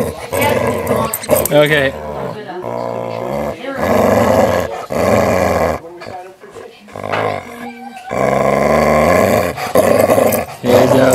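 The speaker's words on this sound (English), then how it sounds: "He's a fierce dog right there, folks." A dog growls while playing with a toy, rough rumbling bursts that rise and fall in several loud stretches with brief gaps. A person speaks briefly.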